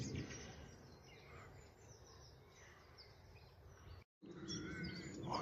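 A nightingale calls faintly in the early morning at RSPB Rainham Marshes, with scattered chirps over quiet outdoor background noise and one brief drop to silence.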